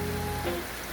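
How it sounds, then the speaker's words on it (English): Steady rain downpour drumming on surfaces around horse and pony sheds, a dense broadband hiss with a faint tonal hum underneath, continuous and fairly close. "We're having a downpour."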